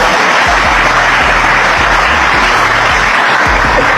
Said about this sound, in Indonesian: Jadi, silakan tepuk tangan.